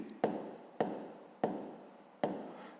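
Pen writing in a notebook during a fifth-grade maths exercise, four distinct scratchy strokes each starting with a tap and trailing off, close and clear with no voice.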